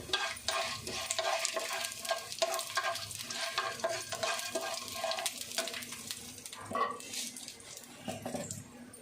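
Dried red chillies sizzle and crackle steadily in hot oil for curry leaf rice, with a stirring spoon scraping the pan and no voices.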